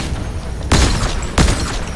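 Two sharp gunshot bursts from enemy players in a duos video game match, a loud crack about two-thirds of a second apart, each with a short decaying tail over low background game noise.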